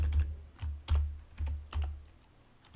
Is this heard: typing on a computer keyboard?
yes